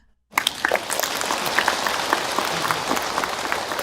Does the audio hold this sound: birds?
no